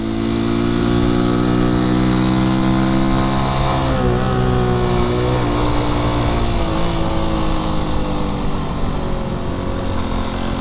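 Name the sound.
1973 Honda C90 motorcycle engine while riding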